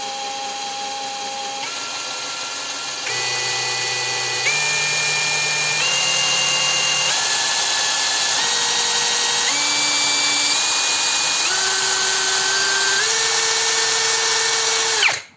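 A DRIVAK ED002 cordless screwdriver runs steadily at its second speed setting, a continuous motor whine that steps upward in pitch through several distinct levels, loud and close with no talking.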